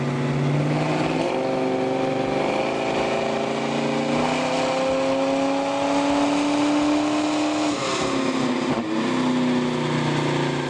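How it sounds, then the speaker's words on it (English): A supercharged 6.2 LSA V8 in a 1968 Oldsmobile Cutlass roars steadily at high revs during a dyno power pull, pitch climbing through a long sustained pull, loud and close with no talking. "we decided it was safe to do a power pull"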